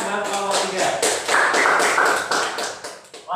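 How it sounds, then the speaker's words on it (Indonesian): Classroom applause for a student group that has just finished presenting, a dense wash of clapping hands with some talk mixed in, loud and steady for about three seconds. "Tepuk tangan buat kelompok"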